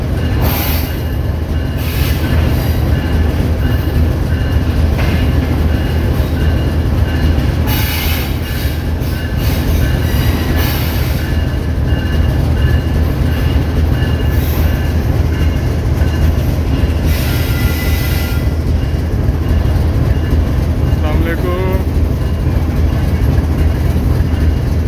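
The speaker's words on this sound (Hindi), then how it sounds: "फाइनली ब्रेक्स लग चुके हैं 28 डाउन शालीमार एक्सप्रेस के" The Shalimar Express passenger train, 28 Down on the Faisalabad route, rolls into a station and brakes, a loud continuous rumble of wheels and carriages with clanks and squealing brake bursts, no talk over it.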